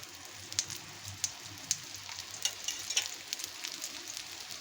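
Brinjal slices frying in oil on a flat pan, giving a soft steady sizzle with scattered light pops and crackles, fairly faint and close, with no voices.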